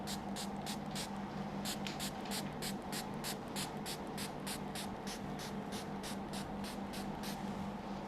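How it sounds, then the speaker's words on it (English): A sprayer bottle mists water onto the sides of a whipped cream cake, about twenty quick, evenly spaced spritzes in a steady rhythm over a low background hum. "Just spray water so it's just not dry anymore"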